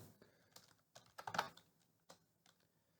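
Typing on a computer keyboard while entering a Symfony 5 console command: quiet, irregular clusters of key clicks in short bursts, close to the microphone, with no voices.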